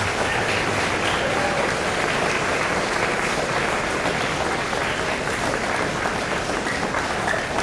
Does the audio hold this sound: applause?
yes